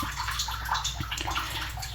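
Cooking water from boiled pork pours and splashes as it is drained through a strainer, a steady close rush of water with a low sloshing undertone throughout.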